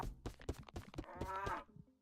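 Cattle lowing in the video game Rising World, a run of short, loud moos and grunts close by over about two seconds, with one longer drawn-out bellow near the end and no talking.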